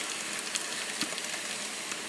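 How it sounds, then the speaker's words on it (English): Cabbage steaks roast on a slightly warped baking tray in the oven, giving a faint, steady crackling sizzle with scattered small pops and no talking. "Listen to them sizzle."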